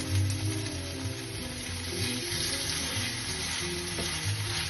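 Cabbage patties frying in hot oil, a steady close sizzle with small crackles and pops that stays even throughout.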